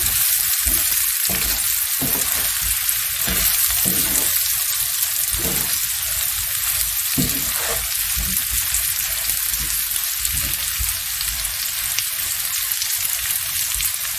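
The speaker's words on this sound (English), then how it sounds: "Now add cooked potatoes to the onion and mix with onion. Gently stir." Cooked potatoes being gently stirred into frying onions in a pan, a continuous close sizzle with soft stirring and occasional wet spatters throughout, no voices.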